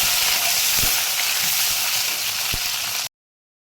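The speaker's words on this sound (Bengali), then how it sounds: "বন্ধুরা এবার আমি মাছ দিচ্ছি মাছটা দিয়ে ভালো করে ভাজবো" Dried loitta fish frying in a pan makes a loud, continuous close sizzle with a few light stirring knocks, then cuts off abruptly into silence.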